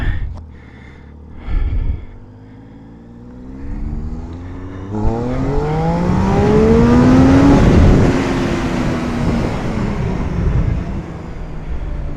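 A car draws up and passes close beside a motorbike on a road near Penticton, its engine note rising and swelling over the bike's own running engine and wind rush, loudest around the middle before easing off.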